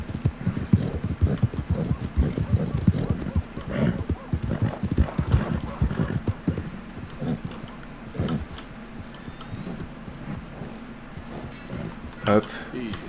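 Horse hooves clip-clop in Red Dead Redemption, a steady rhythmic trot of hoofbeats close by, running under someone talking throughout, with faint game ambience.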